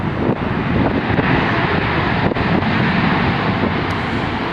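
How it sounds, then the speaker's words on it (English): Strong wind roars steadily across an airport during plane spotting at Dulles, a constant broadband rush with gusty buffeting on the microphone and no talking. "It's pretty windy."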